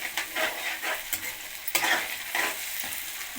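Tomato, coriander and curry leaves stirred in a hot pan, close sizzling with repeated spatula scrapes in an uneven rhythm, moderately loud and with no voices.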